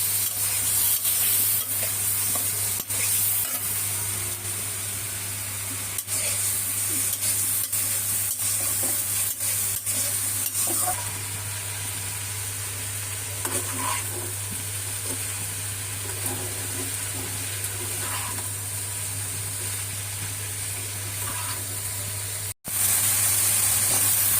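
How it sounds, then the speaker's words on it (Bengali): Kuchumuchi fries in cooked spice masala with a loud, dense, steady sizzle and hiss, accompanied by a low constant hum, irregular light scraping ticks and a brief dropout near the end. "এখন আমি কুচুমুচিটা দিয়ে দিলাম"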